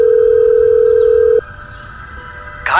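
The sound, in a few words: telephone call being dialled in an audio drama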